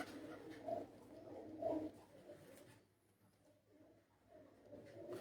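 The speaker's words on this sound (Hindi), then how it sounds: "कबूतर आया हुआ है।" A pigeon coos on a rooftop, with two soft, rounded coos in the first half and then a quieter, murmuring call near the end over a hushed background.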